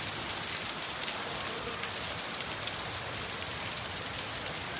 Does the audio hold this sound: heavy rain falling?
yes